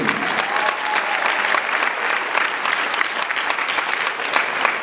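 An audience at a high school commencement ceremony applauds loudly and continuously, a dense wash of clapping with scattered cheers throughout.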